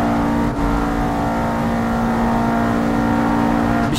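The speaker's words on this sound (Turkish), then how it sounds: "Oğlum benim araba geliyor." A car engine in the racing game Assetto Corsa holds a loud, sustained high rev close by, with a brief dip near the start, and no talk over it.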